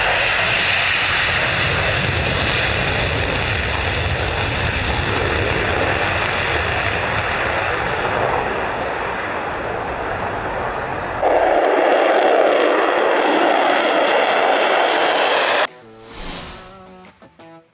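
Tupolev Tu-160 Blackjack supersonic bomber, the heaviest supersonic aircraft ever built, roaring past as a loud, broad engine rumble and rush that holds steady, surges briefly, then cuts off near the end.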